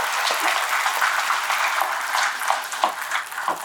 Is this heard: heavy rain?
no